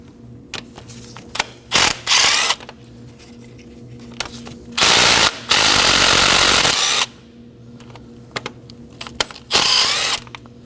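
A ratchet wrench loosening 10mm valve cover bolts on a 2011-2016 Kia Optima, loud close bursts of rapid clicking separated by pauses, with one longer stretch of continuous ratcheting.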